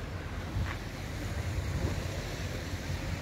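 Surf washing onto Prestwick Beach in Scotland, a steady low wash of breaking waves with wind buffeting across it, continuous and fairly faint, with no voices.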